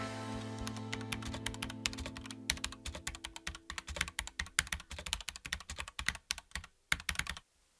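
Rapid computer keyboard typing in a steady run of close, crisp key clicks over a low steady hum, ending abruptly with a few spaced strokes.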